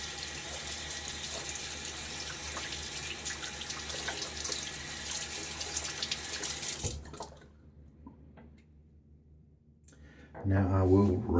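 Tap water runs steadily from a bathroom faucet to rinse a safety razor during a wet shave, a broadband hiss that cuts off about two-thirds through, leaving a near-quiet stretch before a brief voice enters at the end.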